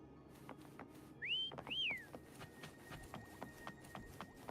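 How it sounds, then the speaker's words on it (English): Two quick rising whistles call a companion in the video game Wuthering Waves, standing out clearly over a soft ambient bed with light ticking steps. "Try whistling."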